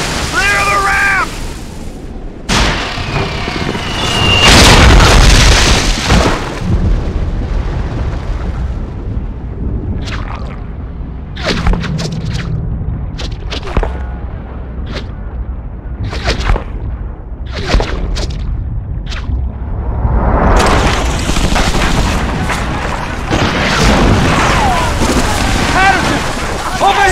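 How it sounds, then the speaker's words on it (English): Artillery strike explosions pound a beach in the World War II shooter Medal of Honor: Frontline, heavy booms and bursts repeating over chaotic battle noise, with shouting voices under the blasts. "Artillery strike scattered what's left of our squad all over the beach."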